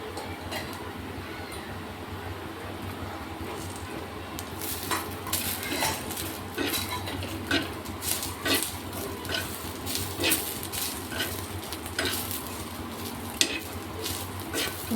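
Oil and grated coconut sizzling in a pan for a drumstick (moringa) vegetable dish while a utensil stirs, metal scraping and clinking against the pan in irregular bursts over a constant close sizzle, with no talking.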